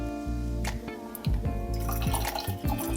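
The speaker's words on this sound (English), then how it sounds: "Let's put the hot water into the cup." Hot water poured into a cup while brewing coffee, a rising gurgling fill with bright splashy trickles and drips, close and clear, stopping and restarting in short bursts.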